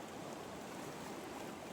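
Ocean sounds for a Hawaiian sleep story, a dense, steady wash of water and surf with a soft broadband hiss, constant and moderately quiet, no voices or distinct wave breaks.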